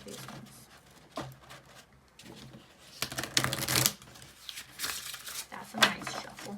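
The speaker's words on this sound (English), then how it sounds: "So I'm gonna really shuffle these ones." Tarot cards are shuffled in quick riffling bursts, with crisp flutters and slaps close up, and a voice is heard briefly.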